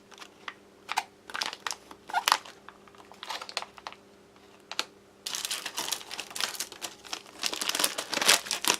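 An MRE Recovery Trail Mix bag is handled at close range, giving sporadic plastic crinkles that grow busier and denser in the second half, with no talking.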